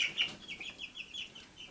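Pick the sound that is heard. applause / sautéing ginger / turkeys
turkeys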